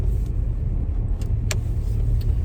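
A car rolls slowly along a snowy, rough winter road, a steady loud low rumble of engine and tyres throughout, with a faint tick or two over the top and no talk.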